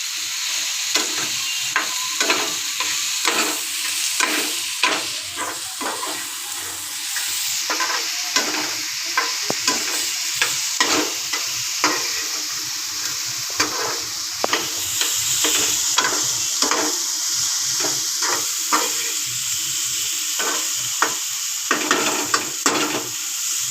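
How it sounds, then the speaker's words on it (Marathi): Okra stirred and fried in a pan at home, a steady close sizzle under repeated scraping strokes of a spoon against the pan, with an even rhythm throughout and no talking. "आणि आपण भेंडी टाकूया. चांगली हलवून घ्यायची"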